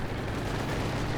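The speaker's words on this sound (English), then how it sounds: "Heavy mortar just wipes another squad!" Heavy mortar fire in Company of Heroes 2 is a dense, loud, rumbling barrage of blasts that runs unbroken through the whole brief moment.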